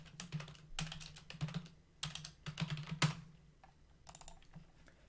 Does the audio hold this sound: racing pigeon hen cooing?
no